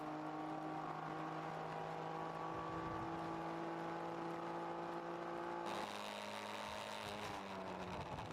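A Corvette race car runs on the circuit during a ChampCar endurance race. Its steady engine drone is faint and distant, then the sound shifts abruptly partway through.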